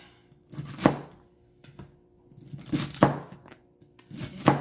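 Celery leaves being chopped with a knife on a cutting board for potato salad, heard as bursts of several quick crisp chops separated by short pauses, close and clear with no talking.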